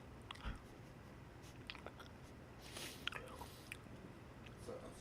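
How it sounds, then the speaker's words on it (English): Potato chips are crunched and chewed right into a loud microphone, scattered crisp bites and soft chewing over a quiet hiss, close but low in level with no talking. "I'm over here just eating chips, looking at this."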